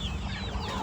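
Farmyard chickens, a hen with many chicks, giving brief soft clucking and peeping calls over a low background rumble, close but faint.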